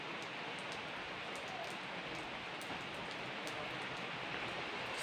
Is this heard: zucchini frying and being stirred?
no